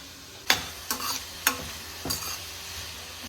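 Onions and green chilies sizzle in a hot pan, with four sharp stirring scrapes at a steady rhythm over a continuous close frying hiss; no voices.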